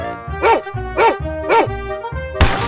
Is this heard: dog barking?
yes